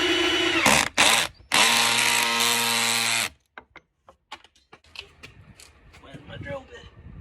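A power drill drives a wood screw into wood in two loud, sustained bursts with a short stop between, followed by quieter clicks, taps and handling noises.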